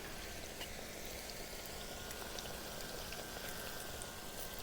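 Codfish fritters (bacalaitos) frying in a pan on a conventional stove, giving a steady, fairly quiet bubbling sizzle that stays even throughout, with no voices.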